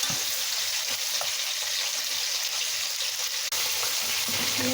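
Onion, garlic and ginger being sautéed, giving a continuous bright hiss of oil under a low background hum, with a sharp clank near the end and soft utensil movements.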